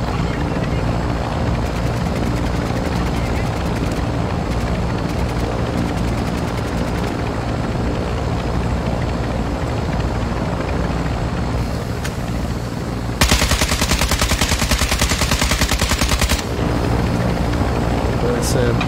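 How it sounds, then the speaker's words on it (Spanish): Steady rotor chopping and engine drone of a helicopter in a video game fill the scene, growing louder and harsher partway through, with voices talking at times. "No, helicóptero."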